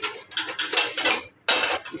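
Sago pearls stirred and fried in ghee in a pan for palm-fruit payesh, the spoon scraping and clinking against metal in bursts with a brief pause midway, close and moderately loud.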